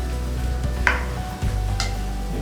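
Anchovy dry fish curry masala sizzles in a hot pan as it is stirred, a steady frying hiss broken by a couple of scraping strokes, close and without voices.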